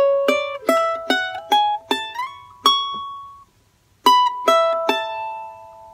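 Bright plucked strings of a charango play a short melodic phrase from Alma Llanera, several quick notes, a pause, then a few more ringing notes, close and clear.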